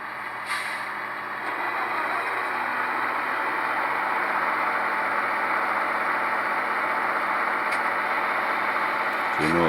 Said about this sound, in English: So you notice how the second engine turned on and it got louder.